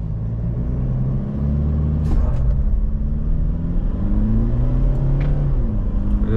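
Engine of a 2023 Toyota SW4 SRX accelerating in sport mode with traction control switched off, a loud steady rumble with rising harmonics as revs climb, a shift partway through, then climbing again, heard from inside the cabin without talk.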